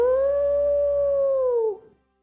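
A jackal gives a single long, clear howl on a moonlit night, holding one steady pitch for nearly two seconds before bending downward and cutting off, loud and alone.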